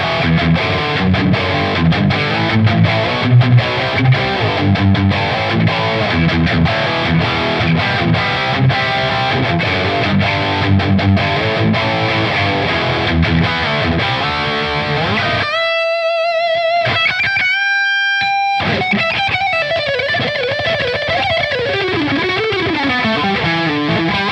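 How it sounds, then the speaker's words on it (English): Heavily distorted electric guitar through the highest gain setting of a boutique amp model in TONEX, aggressive, saturated chugging riffs, then a pause and sustained high-gain notes with vibrato and sliding bends, loud and up close. "And then the highest gain level, you really hear it gets a little more bite to it."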